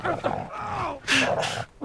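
A dog barks and yips excitedly in a few quick bursts, close by, with some voices or growly noise mixed in.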